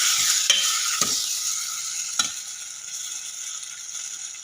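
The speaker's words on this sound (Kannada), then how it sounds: "ಎಣ್ಣೆಯಲ್ಲಿ ಇದನ್ನು ಫ್ರೈ ಮಾಡಬೇಕು ಇದು ಚೆನ್ನಾಗಿ ಸ್ಮ್ಯಾಶ್ ಆಗೋವರೆಗೂ ನಾವು ಇದನ್ನು ಫ್ರೈ ಮಾಡಬೇಕಾಗುತ್ತೆ" Tomatoes frying in oil for Karnataka village-style tomato gojji give a steady, close sizzle, with a few sharp spatula scrapes and knocks early on as they are stirred. The sizzle then carries on alone without talk.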